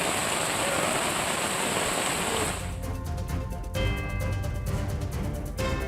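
Heavy rain in Anand, Gujarat, a dense hiss of rainfall drumming on surfaces that shifts after a few seconds into closer, sharper patter and splashing.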